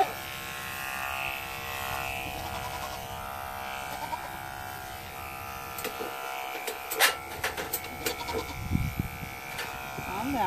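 Electric clippers buzz steadily up close while shaving a dairy cow's udder for show, the high drone running the whole time, with a few knocks and shuffles near the end and a person speaking now and then.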